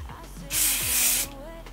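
Fixing spray for makeup, packaged like a hairspray aerosol, gives a single steady hiss of about three-quarters of a second, close and loud against a quiet room.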